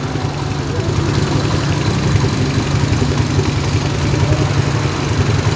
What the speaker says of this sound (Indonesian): Dan sekarang kita coba geber di bagian motor ini ya.